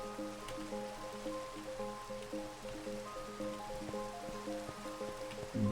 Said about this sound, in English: Oh, we have rain.